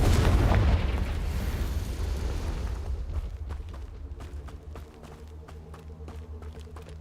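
A Confringo blast spell going off in Hogwarts Legacy, with a loud booming burst at the start that decays into a lingering rumble scattered with sharp crackles and small impacts.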